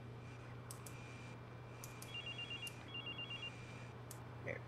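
A guard's mobile phone rings in Watch Dogs, two short bursts of a warbling electronic ringtone repeating over a steady low hum of game ambience, with no talk.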